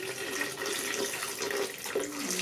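Water pours steadily into a container of washed ingredients before blending, a continuous close splashing flow lasting a couple of seconds during village home cooking of carrot fufu and fish soup.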